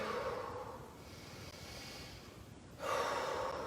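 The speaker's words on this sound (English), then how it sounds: "Breathing." Deep, audible breaths during a home exercise warm-up: a slow exhale fades out, then a fresh breath swells near the end, quiet and close with no talking.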